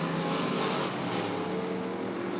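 A race car roars at Rockford Speedway during a bracket drag race, a steady broadband engine drone heard from a distance at modest loudness.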